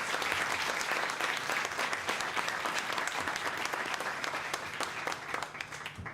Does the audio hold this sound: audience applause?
yes